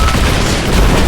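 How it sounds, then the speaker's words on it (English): Trebuchet firing in Rise of the Tomb Raider: a loud, heavy booming rush with rumbling low end that fills the short moment, dense and forceful, with no voices. "Got to signal Sophia to fire that trebuchet."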